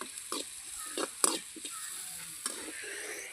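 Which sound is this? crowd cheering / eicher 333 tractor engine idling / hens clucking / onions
onions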